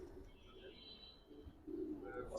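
Soft pigeon coos murmur close by, low and rounded, with faint rustling and background noise.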